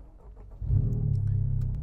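Small 1.3 cc car engine fitted with 3-inch exhaust piping, idling low and then swelling into a deep, loud, steady drone after a sudden rev partway through, heard close up with no talking.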